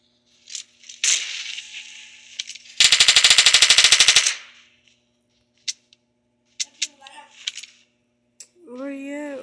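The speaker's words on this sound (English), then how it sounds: "Somebody shooting behind." Automatic gunfire in the video game PUBG, a loud rapid burst of shots lasting about a second, followed by scattered single clicks and effects while a person talks.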